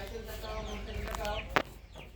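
Domestic chickens cluck softly at a rural home beside an outdoor cooking area, a low steady murmur of fowl with one sharper squawk near the end, over background noise and faint voices.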